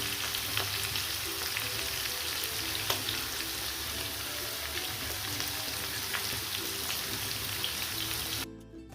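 Curry leaves dropped into a bubbling sardine curry, giving a continuous dense crackling sizzle that stays steady and close for several seconds before easing off at the end, no talk.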